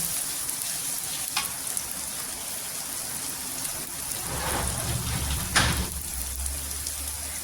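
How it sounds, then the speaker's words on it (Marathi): Onions frying in hot oil for spicy sev bhaji, a steady close hiss of sizzling with a spattering crackle that swells briefly midway, no talking. "कांद्याला आहे ना छान असं फ्राय करून घ्यायचं"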